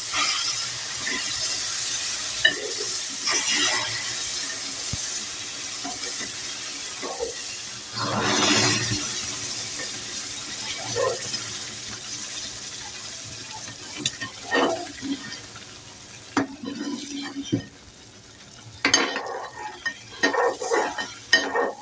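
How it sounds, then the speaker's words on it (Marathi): A spoon stirs semolina shira cooking in ghee in a pan while hot water is poured in bit by bit, with steady scraping and stirring over hissing sizzle, louder bursts as water hits the hot pan. "थोडं थोडं करून पाणी ओतायचं, ढवळत राहायचं सारखं, गुटल्या नको व्हायला म्हणून"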